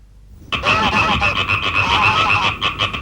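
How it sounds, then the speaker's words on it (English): Geese in a film honk in a rapid, dense clamor, loud and close, several harsh nasal calls overlapping in a continuous burst after a quiet start. "Startled by the noise of the gooses, Mario came out of the house."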